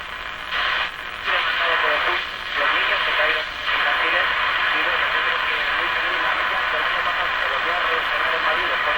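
A 1935 Rogers 7R622 tube radio is swept across the shortwave band, giving steady loud hiss and static with short swells and dips as stations pass, and a broadcast voice partly buried in the noise.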